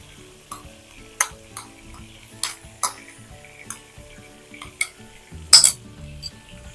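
Stuffed brinjal curry with onion masala sizzling in a pan while a spoon stirs it, giving soft frying hiss and several sharp clinks of metal against the pan at irregular intervals.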